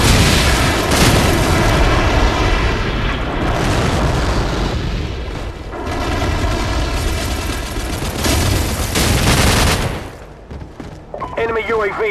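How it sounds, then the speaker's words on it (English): A Call of Duty Modern Warfare friendly airstrike pounds the area with a long run of heavy booming explosions and gunfire. The blasts roll on loud for about ten seconds before dropping away, with game voices mixed in. "Friendly airstrike on the way."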